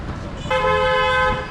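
A single car horn blares on a busy street in Vietnam, one steady honk of about a second rising over a low rumble of traffic.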